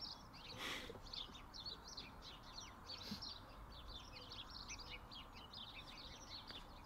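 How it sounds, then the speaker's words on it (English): Lively birdsong chirps and trills continuously over a quiet outdoor background at the East Anglian Railway Museum, with several birds calling at a moderate distance. "Lovely birdsong, but not when you're trying to record."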